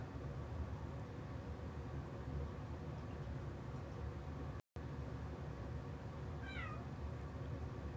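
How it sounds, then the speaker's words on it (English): A cat meows once, a short rising-falling call over a steady hiss of background noise, with a brief dropout just before it. "What are you meowing for?"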